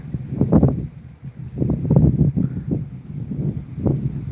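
Dry, strong wind buffets an outdoor microphone near a bridge under construction on the Thai–Lao border, producing loud, low rumbling gusts that swell and fade in uneven waves throughout with no voices heard.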